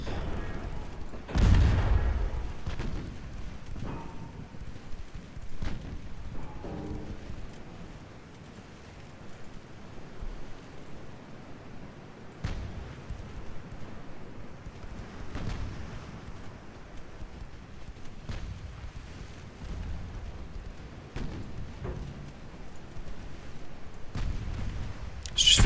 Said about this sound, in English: Alright, 6-inch guns, I need you to start hitting things.